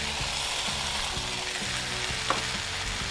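Vegetables sizzle and hiss steadily in a hot pan with curry paste and fried catfish, joined by sweet peppers, kaffir lime leaves and young green peppercorns, with scraping stirs along the pan's base.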